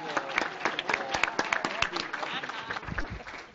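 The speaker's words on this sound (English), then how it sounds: "The first one is to give a round of applause for an extraordinary panel like we just had." Scattered clapping from a modest conference audience applauding a panel, uneven and fairly close, with voices murmuring underneath.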